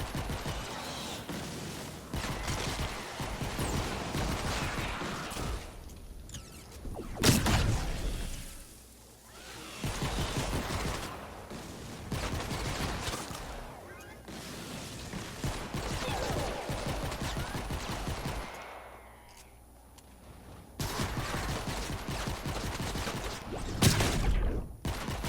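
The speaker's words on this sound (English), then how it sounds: "this gun fires way faster than I like to" The Haywire Storm gun in Fortnite Save the World fires in rapid bursts, dense crackling volleys separated by short pauses with mechanical clicks, loud and close.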